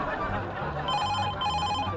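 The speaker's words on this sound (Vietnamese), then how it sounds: "hình như là điện thoại bàn anh em ạ" Desk telephone ringing inside the video game GTA V, a bright, repeating electronic ring that starts partway through and continues to the end, heard over a background of game ambience.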